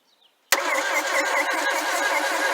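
After a brief quiet, the engine of a 1964 Volvo PV544, unused for 42 years, abruptly begins cranking, turning over with a loud, steady pulsing churn that continues to the end.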